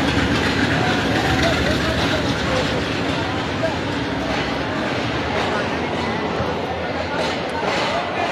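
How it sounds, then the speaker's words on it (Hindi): A passenger train arrives at Lahore railway station with a loud, steady rumble and rattle of rolling cars that fills the whole stretch, while voices talk over the constant platform noise. "ये ट्रेन भी आ चुकी है"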